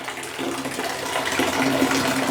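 Hot water runs from the tap of an electric water heater, a steady rushing flow that grows slightly louder and fuller over a couple of seconds, close and alone.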